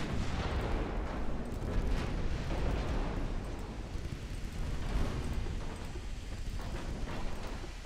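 Naval main guns firing in the warship game Ultimate Admiral Dreadnoughts: a dense, continuous roar of booming salvos and rumbling blasts that stays loud and heavy throughout, with no voices.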